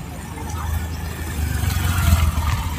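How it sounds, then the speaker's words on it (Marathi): An old auto rickshaw's small engine runs close by, a low, uneven putter that rises slightly in loudness toward the end, with faint background activity. "रिक्षा आली ही आमची जुनी गाडी आहे."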